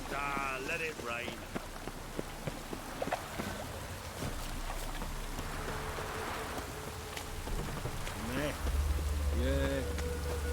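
Steady rain pattering across the ground in the video game The Witcher 3: Wild Hunt, a constant close hiss under scattered game effects and a few brief tonal sounds.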